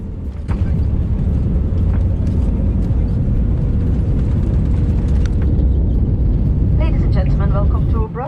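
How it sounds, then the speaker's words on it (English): An Airbus A320 operated by Brussels Airlines touches down on runway 25 right at Brussels, recorded from the economy cabin, with a steady loud roar and rumble of the landing rollout running throughout and a brief chime near the end. "we were lining up on runway 25 right and touched down at 8:55 local time"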